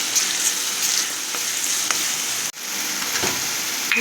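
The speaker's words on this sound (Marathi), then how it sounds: "आलं आणि लसणाची पेस्ट घालूया हे पूर्णपणे भाजून घेऊया" Ginger garlic paste roasting in a pan, a continuous close crackling sizzle at an even level with a brief drop midway and a few light scrapes of stirring, no voices.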